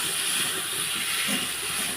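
Onion paste and spices fry for a rohu fish curry with a short, steady, dense sizzling hiss and no talk.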